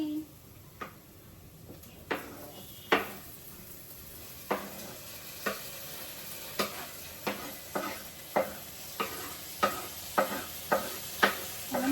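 Onion and tomato frying in a pan for a fish meal, with a steady soft sizzle under regular scraping stirs of a spatula, about one per second, fairly faint and close.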